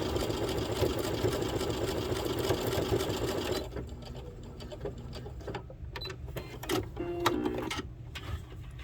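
A sewing machine runs a zigzag stitch in a fast, steady mechanical whirr for several seconds, then stops to leave scattered clicks and small handling noises.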